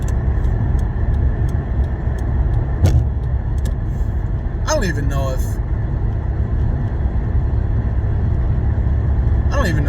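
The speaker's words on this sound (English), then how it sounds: "It might be like the car is like too loud." Steady low road rumble and engine hum fill a car's interior throughout, with a person talking over it and a few faint clicks and jingles.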